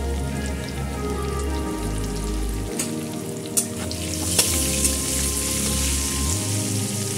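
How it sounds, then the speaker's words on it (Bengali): Potatoes fry in hot oil on lowered gas for mutton kosha, a steady loud crackling sizzle with a low burner hum that cuts in and out and a few sharp clinks of utensils. "আলুটা আমি গ্যাস কমিয়ে হালকা ভেজে দেব।"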